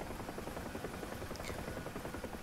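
A helicopter in the flight simulator DCS World gives a steady, faint rotor drone with a soft rhythmic chop and broad whooshing noise that holds evenly throughout, with no voices.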